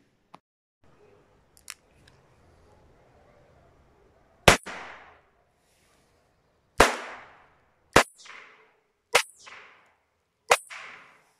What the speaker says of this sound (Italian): così vi porto a fare la prova di sparo